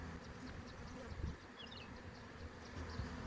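A honey bee swarm hums steadily around a hive, a dense continuous buzz of many insects with individual bees droning close by now and then.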